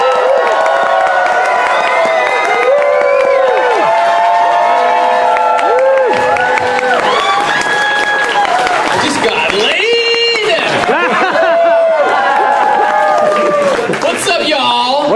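Convention crowd at an opening ceremony cheering, whooping and applauding as a guest takes the stage, a loud sustained roar with shouts and voices mixed throughout.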